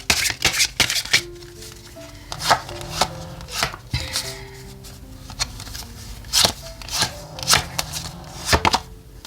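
Oracle cards are shuffled by hand for a weekly tarot reading, with rapid crisp riffling and slapping bursts of card against card, close and fairly loud, punctuated by sharper taps and brief pauses.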